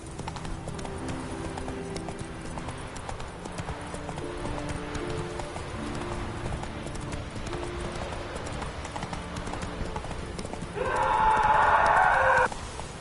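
A horse clip-clops at a steady trot under its rider in The Witcher 3, rhythmic hoof beats over game music, with a louder burst of sound near the end.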